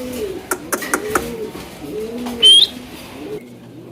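Fancy pigeons, a pair of black Maltese and giraffe-neck birds among them, coo nearby in soft rolling phrases, with a brief sharp chirp partway through and a faint voice in the background.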